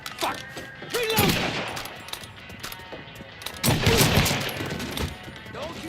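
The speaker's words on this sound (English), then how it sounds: "We getting shot up!" Gunfire in Mafia III: Definitive Edition, with loud bursts of rapid shots in two main volleys, crackling and echoing close by, while voices shout amid the firefight.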